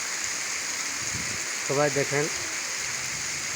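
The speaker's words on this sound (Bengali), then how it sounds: "এখন শুধুমাত্র বৃষ্টি হচ্ছে, সাথে হালকা বাতাস আছে" Steady heavy rain with a light wind hisses evenly throughout in Benapole, Jashore, Bangladesh. A voice speaks briefly over it.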